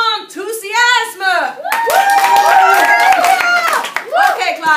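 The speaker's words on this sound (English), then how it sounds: "Class, applaudissez-la avec enthousiasme!" A high school French classroom claps for a classmate, with brief bursts of hand clapping mixed under an enthusiastic teacher's voice talking loudly over it.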